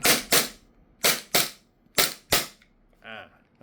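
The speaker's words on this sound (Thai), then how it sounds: "ก่อน ที่จะส่งร้านก็ต้องยิงทดสอบเหมือนเดิมครับ" An Umarex Glock 19 airsoft gas pistol is test fired, six sharp loud pops in three quick pairs, each close and crisp, followed by a brief metallic rattle of the slide.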